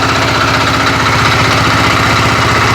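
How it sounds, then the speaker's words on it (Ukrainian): A walk-behind tractor (motoblock) engine idles loud and close, holding a steady low, rapid knocking throb with no break and no talk. "Для того, щоб мотоблочок заглушити, Ось так."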